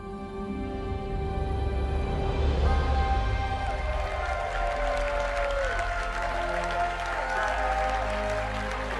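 A large audience applauds at a Ubisoft gaming showcase. The steady, dense clapping fills the hall at close range and fades into musical tones toward the end.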